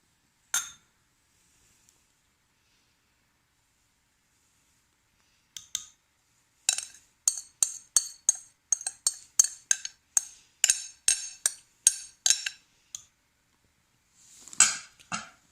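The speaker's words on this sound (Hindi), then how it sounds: "अब मैं इसको डिश आउट कर लेती हूँ" Utensils clinking against a dish while baby food is served out, a quiet opening tap, then a rapid series of crisp scraping clinks and taps, closing with a soft scrape.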